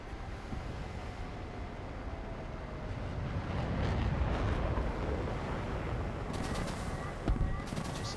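Aircraft machine gun fire in War Thunder air battles, heard as short crackling bursts over a steady loud engine and wind roar, with brief gunfire near the end.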